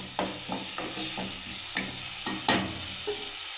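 Spice paste stir-fried in a pan for a vegetarian cauliflower curry, a steady sizzle with repeated scraping stirs of the spoon at a regular rhythm, close and moderately loud.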